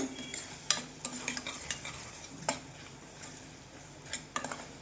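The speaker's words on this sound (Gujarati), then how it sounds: "હવે આપણે આપણા ચૂરિયાના શાકને ધીમા તાપે ચડવા દેવાનું છે" Kathiyawadi-style sev turiya (ridge gourd) sabzi cooking in a pan on low flame, with a soft steady sizzle broken by intermittent spoon scrapes and clinks against the pot as it is stirred; no voices.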